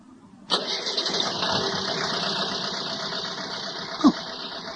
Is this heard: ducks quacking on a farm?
no